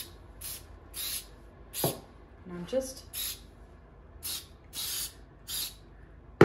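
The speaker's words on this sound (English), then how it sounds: "Let's go ahead and spray this guy." Short hissing bursts from a spray paint can are applied to a cardboard gift box, about nine quick puffs spaced through a steady rhythm, close up, with a person briefly talking between sprays.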